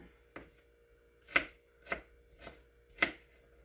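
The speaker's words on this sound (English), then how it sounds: "So not only am I chopping up for the breakfast this morning, but I'm prepping for my soup as well." Knife chopping an onion on a cutting board, five distinct sharp chops at an uneven slow pace, close and clear with no voices.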